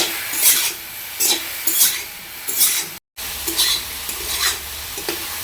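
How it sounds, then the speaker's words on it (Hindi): Mushrooms fry in mustard oil while a utensil scrapes and stirs them in the pan. Rhythmic bursts of scraping ride over a constant sizzle, with a brief silent gap midway. "ए छतु को तेल रे पूरा भलसे भाजी दबा"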